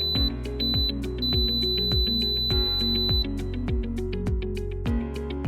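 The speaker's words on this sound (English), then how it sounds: "When the cooking cycle is finished, the unit will beep 3 times and show End on the display." A Bravo Pro smart oven and air fryer beeps at the end of its cooking cycle, with sharp electronic tones that stand out above a steady, low rhythmic hum.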